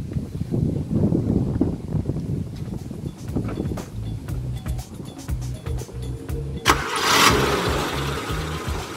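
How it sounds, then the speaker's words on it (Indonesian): A Suzuki Jimny engine cranks briefly and catches, then settles into a smooth, steady idle, with some background clatter before it starts. "Sekali starter langsung nyala"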